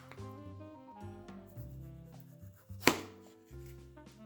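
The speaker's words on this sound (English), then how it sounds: "I've got a tomato here. Let's go ahead and give this a slice." A knife slicing through a tomato on a board, a single crisp cut that stands out over steady background music.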